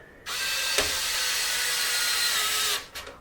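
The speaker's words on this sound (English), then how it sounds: "just switch to my electric screwdriver for speed" An electric screwdriver driving screws into the body mounts of an FMS Bronco RC plane, a steady high whirring run of about two and a half seconds with a click near the start and a short stop-start burst at the end.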